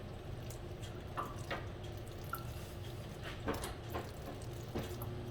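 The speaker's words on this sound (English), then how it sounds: "I can easily take it off of my fingers with a little stream of water" A thin stream of tap water runs over fingers at a kitchen sink while making chile relleno, a quiet steady trickle broken by occasional splashing drips, close but faint.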